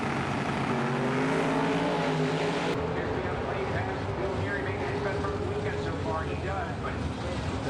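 Carbureted, manual-transmission drag cars limited to 825 cubic inches roar at an NHRA event at Indianapolis Raceway Park, a loud continuous engine drone with a sharp shift partway through, under a commentator's talk.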